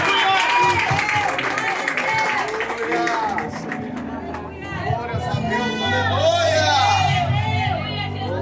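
A church congregation claps and cheers together, a dense loud wave of applause with whoops mixed with voices and a preacher talking over it.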